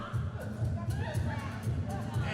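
A wrestling crowd in Fresno boos in a sustained, rumbling chorus at a heel wrestler, a steady mid-distance wash of voices that runs throughout without any clear break.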